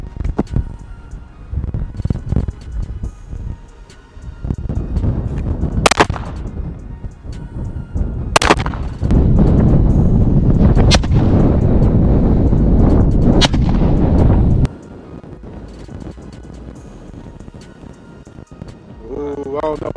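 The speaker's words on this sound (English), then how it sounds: "So we got them extreme penetrating rounds." Extreme penetrator rounds fired outdoors at military body armor and a helmet, heard as a few sharp, loud gunshot cracks spaced several seconds apart over steady wind noise and someone talking throughout.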